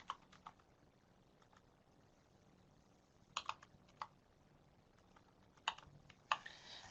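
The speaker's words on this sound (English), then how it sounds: "I'm going to type in the PMID for an article for my example" Sparse keystrokes on a computer keyboard, a few soft isolated clicks and short bursts of typing, quiet and close with no talking.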